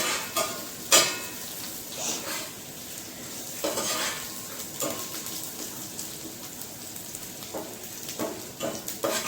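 Garlic sautés in oil in a pan with a steady sizzle. A utensil scrapes and clinks against the pan at intervals, heard up close without any voices.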